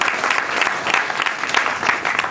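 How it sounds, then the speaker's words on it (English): Brief burst of audience applause at a Native American Day of Mourning gathering in Plymouth, Massachusetts, loud and close with rapid, uneven clapping. "You can applaud, yeah?"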